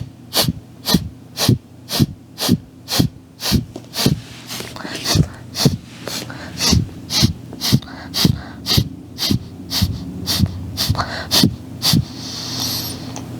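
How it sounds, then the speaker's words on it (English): Rapid, forceful breath of fire in a Kundalini yoga session: about twenty sharp, rhythmic nasal exhales, roughly two per second, close and loud, with a brief pause midway and a steady pulse throughout. "begin breath of fire."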